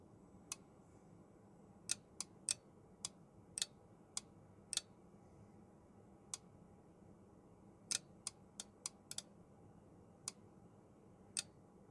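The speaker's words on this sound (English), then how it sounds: "there are a load of relays clicking in the background, which you might be able to hear" Telephone exchange relays click during a power-up self-test: sharp, isolated ticks in irregular bursts over a faint, quiet background hum, with no voices.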